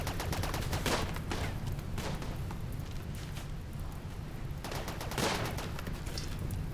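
Rapid continuous gunfire from automated turrets in the video game RimWorld, a dense rattling barrage of shots with low rumbling underneath, steady and loud throughout with no talk.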